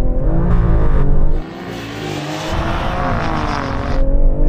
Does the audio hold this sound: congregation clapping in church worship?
no